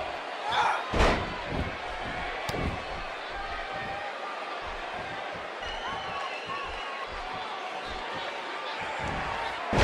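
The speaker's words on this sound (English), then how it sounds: "She slams her down with great force." A heavy body slam in the wrestling video game WWE 2K18: one loud thud early on, then a steady crowd-like roar with a commentator talking over it.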